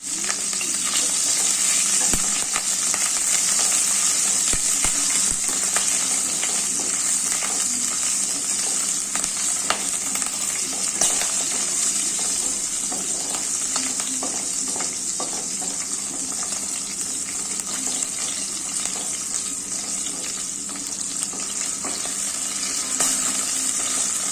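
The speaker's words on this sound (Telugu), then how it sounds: "పచ్చిమిరపకాయలు వేయించుకోవాలి" Green chillies fry and sizzle in hot oil in a pan for a snack dish, a steady close crackle with occasional stirring scrapes and no voices.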